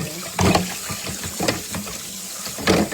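A kitchen tap runs while something is washed, giving a continuous hiss of water with several louder splashing surges as the flow hits the sink, close and without talk.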